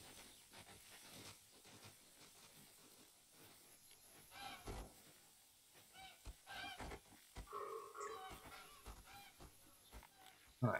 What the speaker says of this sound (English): But I think that noise is geese.